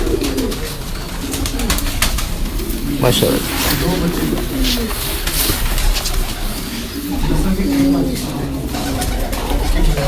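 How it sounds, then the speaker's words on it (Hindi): Pigeons coo softly and repeatedly in a fancier's loft in Rawalpindi, including a soft-feathered, broad-winged bird, while someone talks over the birds close by. "बहुत अच्छा कबूतर माशाल्लाह"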